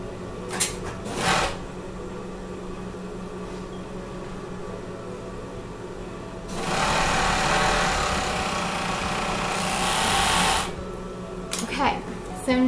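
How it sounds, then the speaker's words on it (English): A sewing machine stitches the center front pieces of a homemade bathing suit together, running in one steady whirring burst of about four seconds between quieter handling sounds and short clicks, close to the listener. "we're going to go ahead and sew the other center front piece together"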